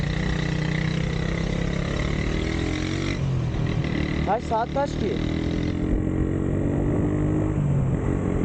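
Steady engine drone and exhaust hum from a Honda CG motorcycle being ridden to school, constant throughout with a slight rise, while a rider speaks over it.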